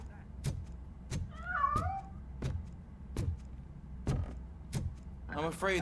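A cat meows a few times in the Robocop Rogue City video game, short rising cries between regular sharp metallic clanks, with a longer meow near the end.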